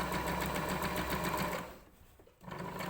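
A sewing machine stitching a pencil case runs fast with a rapid, even chattering whir, close and loud, then halts for about a second before starting up again, with no talking.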